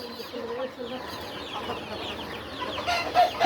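Quail chicks of two breeds, one whitish, freshly bought, chirp in rapid, high peeping bursts that overlap throughout, with faint voices in the background.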